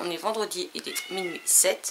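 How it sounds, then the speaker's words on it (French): A cat meows loudly at a door, one high insistent cry standing out near the end while someone talks over most of the clip. "Je suis désolée pour le chat qui gueule à la porte"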